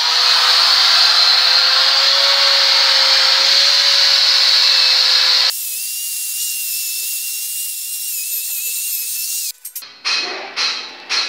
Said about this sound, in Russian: Борчик мы заменим на щеточку, опять же дрель и щетка